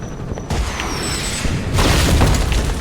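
A missile launcher fires in the Alpha Protocol video game, a sudden loud burst followed by a sustained roaring, crackling explosion that swells louder toward the end, no talking.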